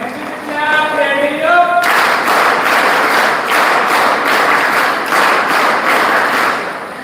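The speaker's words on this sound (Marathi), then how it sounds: "तुमच्याबद्दल तुम्ही टाळ्या वाजवल्या पाहिजेत" An audience at a university outreach event breaks into applause, steady and dense. A brief voice comes first, then loud clapping continues to the end.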